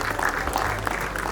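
Continuous applause from an awards ceremony audience, a thick steady patter of many hands clapping at close, fairly loud level with no break.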